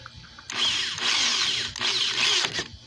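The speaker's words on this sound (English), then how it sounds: "Try to center the drill as best I can." A power drill bores through plastic while installing an AC port plug in a 2015 Ford Transit 250, sounding as three loud, close bursts of high whirring with brief pauses between them.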